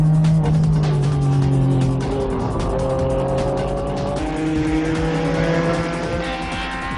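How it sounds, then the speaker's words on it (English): Honda NSX-based GT race cars and other circuit racers roar past on track, loud engine notes rising and falling with tire squeal and overlapping passes, close and continuous without talk. "Following right behind was the NSX-based racing car, the ADAC GT."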